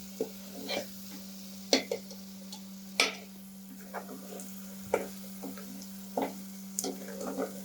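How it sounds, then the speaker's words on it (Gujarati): Gram flour and spices are stirred in a pan, irregular scrapes and taps of a spoon against the metal over a faint quiet cook, with a steady low hum underneath. "બેસનને આપણે થોડું મસાલા સાથે આ રીતે ચલાવી અને કૂક થવા દઈશું"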